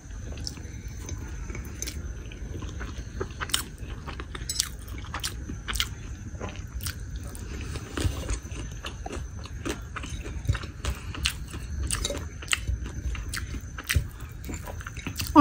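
Rice and prawns being eaten by hand, with soft wet chewing and sharp little clicks and smacks repeating irregularly up close against a faint background hum, no speech.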